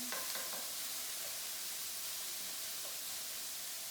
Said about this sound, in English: give these onions a little stir